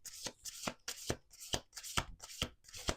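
Playing cards riffle-shuffled by hand, seven or eight quick crisp bursts in a steady rhythm, close and fairly quiet, with no voices.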